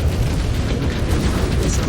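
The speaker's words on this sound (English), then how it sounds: "Incoming missile." A missile explosion in MechWarrior 5 Clans produces a loud, deep, rumbling blast that fills the entire short moment with a steady low roar.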